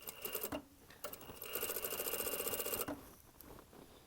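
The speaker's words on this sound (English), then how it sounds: "Sometimes when you're sewing stretchy fabrics on a straight stitch machine like this, it skips." A straight stitch sewing machine sews stretchy leather on a jacket being altered, with short runs of rapid mechanical stitching and a longer steady burst in the middle, all close up and with no talking.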